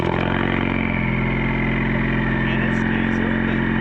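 A Ford Mustang engine runs steadily with its active exhaust valve held open, a continuous loud, deep rumble close by with no pauses throughout.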